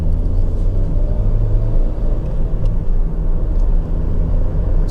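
Driving a 2010 Honda Jazz 1.2 SE five-door over road bumps brings a continuous low rumble of tyres and cabin noise, with soft thumps as the car rolls over the bumps and no clanking.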